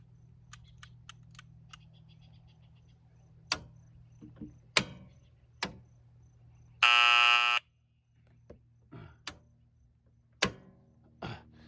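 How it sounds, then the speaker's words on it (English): A septic pump alarm under test lets out one loud, harsh buzzing blare for under a second, set among scattered clicks and taps from wiring work against a low steady hum. "So when we turn this on, we have our alarm all set up"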